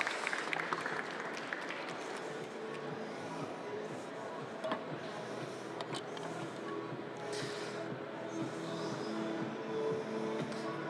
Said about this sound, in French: On l'applaudit, messieurs, dames